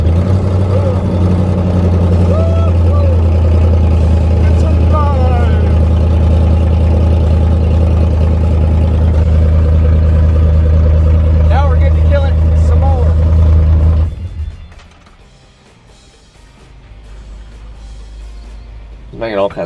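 A Malibu boat engine with an oil pressure problem runs steadily and loudly at idle for about fourteen seconds, then cuts off, leaving quieter background noise. People talk over the engine throughout.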